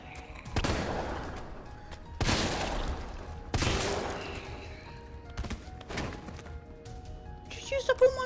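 Magnum revolver fire in the Resident Evil 3 Remake video game: four loud, booming shots spaced a second or more apart, each with a reverberant tail, followed by a softer clatter at the end.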